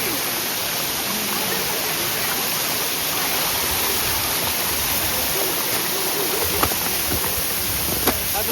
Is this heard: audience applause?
no